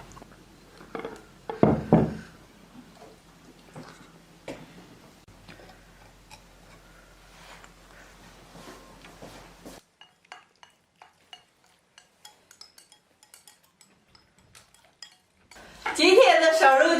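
Steamed pork belly is turned out of bowls onto plates in a kitchen, with sharp clinks and knocks of dishes and utensils, quiet scattered ticks and a louder burst of clatter at the end.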